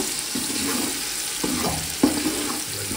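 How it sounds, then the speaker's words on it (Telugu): Sliced onions fry in a pan toward golden brown, giving a steady close sizzle with occasional stirring clinks and scrapes, no voices. "ఇవి బాగా గోల్డెన్ కలర్కి వచ్చేలాగా వేసుకోవాలి"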